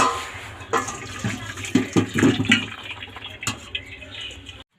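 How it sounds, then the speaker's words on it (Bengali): Water from boiled potatoes drains through a perforated plate, pouring and splashing steadily at close range with uneven gurgling surges that fade out at the end. "এবার আমি এটা জল ঝরিয়ে নেব। একটা ফুটো থালা নিয়েছি।"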